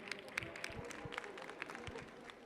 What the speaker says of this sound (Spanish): Denle un aplausito.